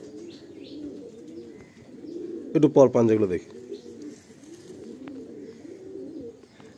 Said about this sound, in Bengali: আজকে প্রত্যেকটা পায়রার চোখ বেশ বড়